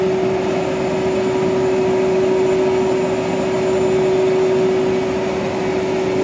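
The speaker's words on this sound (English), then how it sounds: "Cutting that curve very slowly, very carefully, very gently, almost pivoting on that blade." Power saw blade slowly cutting a curve through wood for a spice rack project, with a loud, steady motor whine and a constant buzzing tone that hold for several seconds without pause, with no talk.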